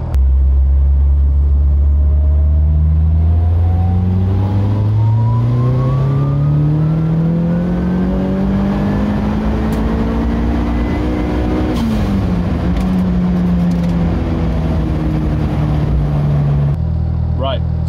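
A tuned car engine with turned-up boost doing full-throttle pulls, heard from inside as a loud, droning note climbing steadily through the revs for over ten seconds, dipping briefly on a shift and easing off near the end.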